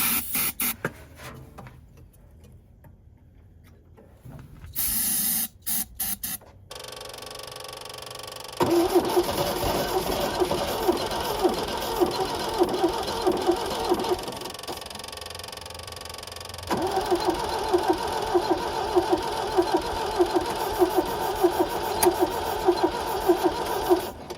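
A 1974 MG parked for 30 years cranking over with starting fluid sprayed in, beginning with sputtering bursts, then long rhythmic stretches of steady starter churning separated by a short pause.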